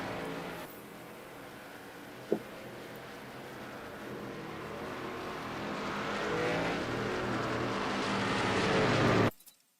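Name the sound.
pace car driving by in racing video game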